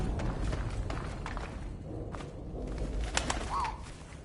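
A pigeon coos briefly in the war video game 11-11 Memories Retold, a single short call rising out of a soft bed of ambient noise and faint shuffling steps.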